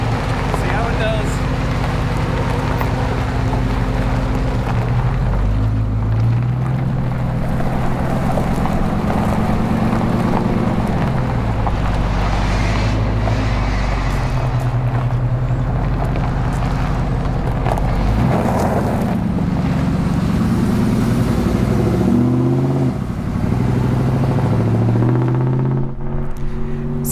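Car driving on a busy road after an engine computer reflash, with a steady engine and road rumble, gear-shift changes in pitch and passing traffic running throughout under intermittent talk.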